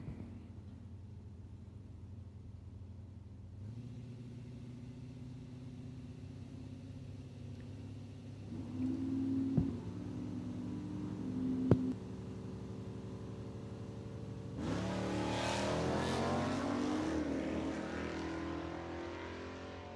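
Drag racing at Cordova Dragway's BOP Nationals, with a big Dodge pickup truck and a sportsman-class Camaro: steady engine rumble that swells into a loud, roaring launch and pass near the end, with a couple of sharp tonal blips before it.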